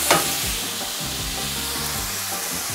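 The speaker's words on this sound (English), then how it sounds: "And then give it a little toss. Start to, that's it, sear everything. Keep that heat on." Beef for Szechuan beef sears in a hot wok, a loud, steady close sizzle with a brief toss clatter at the start and no talk.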